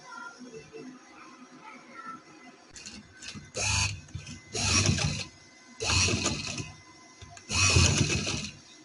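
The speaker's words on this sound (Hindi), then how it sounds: "इस तरह से हम कपड़े को अंदर दे के सिलाई लगाएंगे" A sewing machine stitches fabric for a neck design, running in four short bursts separated by brief pauses, with a close, rattling mechanical chatter.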